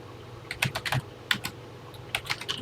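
Keys clatter on a TI-99/4A home computer keyboard while a program is entered, with short irregular bursts of clicks separated by pauses and no voices.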